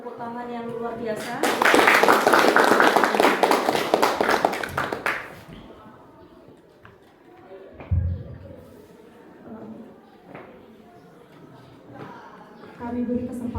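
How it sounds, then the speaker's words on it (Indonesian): Audience at a school teachers' seminar bursts into loud, dense clapping for a few seconds, which then stops abruptly; scattered taps and a thud follow as someone speaks over the room. "Kita beri tepuk tangan yang luar biasa."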